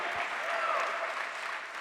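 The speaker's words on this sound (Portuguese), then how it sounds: "Se eu fosse você, eu já tinha aplaudido ao Senhor" A church congregation at a Sunday service breaks into sustained applause, a thick, continuous wash of clapping hands with a faint voice rising briefly within it.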